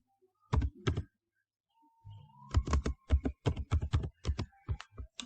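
Keys clatter on a computer keyboard in two short bursts, a brief pair of taps, a pause, then a quicker run of distinct close clicks.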